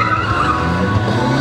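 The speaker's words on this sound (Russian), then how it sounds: "И даже в этом уголке он сумел ее выкрутить. Разворот на 360." Tires screech and skid loudly as a roughly 400-horsepower small car spins 360 degrees in a tight corner at a speed-maneuvering competition, a sustained squeal with engine roar close by.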